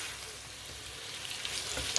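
Potatoes for truffade frying in a pan and being stirred, a soft, steady sizzle with faint scraping that grows slightly louder at the end.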